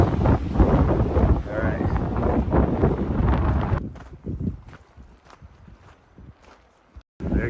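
Strong wind buffets the microphone at a lakeside camp during a high-wind fishing trip, loud and roaring for the first few seconds and then dropping to lighter gusts, with a brief spoken remark.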